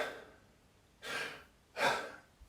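A breathing demonstration: two sharp, audible breaths taken through the mouth into the chest, each a short rushing burst separated by quiet pauses.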